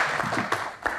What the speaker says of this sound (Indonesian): kita berikan tepuk tangan sekali lagi untuk Tasya.